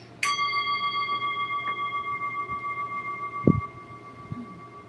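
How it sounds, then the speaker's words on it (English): A single strike on a meditation chime rings out clearly, a bright metallic tone with long sustained overtones that fades slowly over several seconds in a quiet room, with a few soft knocks and a brief voice sound near the end. "I'm going to ring our chime here for you."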